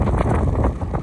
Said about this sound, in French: Je me prends de ces rafales.